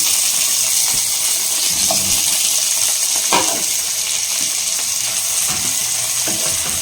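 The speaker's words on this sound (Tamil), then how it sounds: "நல்லா ஹை ஃப்ளேம் பண்ணிட்டு சின்ன வெங்காயம் வந்து பார்த்திங்கன்னா நல்லா வதங்கணுங்க" Finely chopped shallots sauté over a high flame for chicken paper roast, giving a loud, dense, unbroken sizzle close by, with a few light clinks from a stirring utensil.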